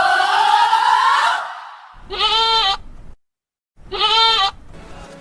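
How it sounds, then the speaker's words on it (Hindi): Goats at a livestock market ahead of Bakra Eid let out two loud, close bleats in a row, separated by a short silence, after a brief stretch of other sound at the start. "ये तो पूरी बकरे की दुनिया है।"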